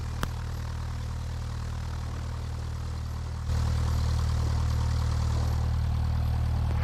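A Cessna Skyhawk propeller plane departs an ice runway at Alton Bay, a steady engine drone heard from inside the aircraft that steps up sharply to full power halfway through and holds loud and constant.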